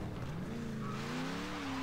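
A car drifting and skidding in a driving game, with a sustained tire squeal rising in pitch over a steady engine drone, loud and continuous, no talking.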